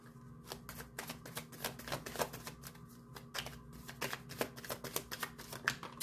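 Tarot cards are shuffled close by, giving a quick, crisp riffling patter of papery snaps that runs throughout.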